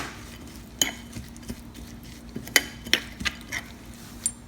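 Sprouted fenugreek seed pickle mixture being stirred, a spoon scraping and clinking against the bowl in a few scattered taps and scrapes over a quiet, steady background hum.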